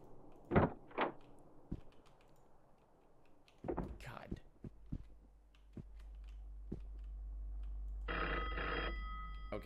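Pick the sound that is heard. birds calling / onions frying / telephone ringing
telephone ringing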